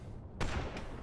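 A single sharp gunshot from a first-person video game, a short, loud broadband crack followed by a brief decaying tail.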